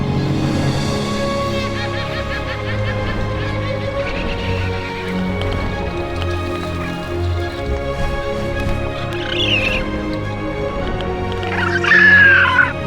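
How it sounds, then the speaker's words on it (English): Magnificent frigatebirds at an evening seabird colony in Mexico, heard as a dense, continuous chorus of calls and chatter. Tonal musical layers run throughout, and a few sharper squawks stand out near the end. "As the sun dips below the horizon, the birds engage in a final flurry of activity."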